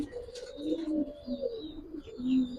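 Giribaz pigeons coo in a loft, several soft, low, rolling calls repeating close by and overlapping, with faint higher chirps in the background and no talking.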